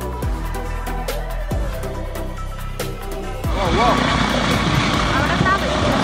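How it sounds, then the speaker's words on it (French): Rescue helicopter rotors thump in a steady chop that grows louder and denser partway through, with a voice talking over the noise. "C'est ce qui est arrivé à cet hélicoptère de sauvetage."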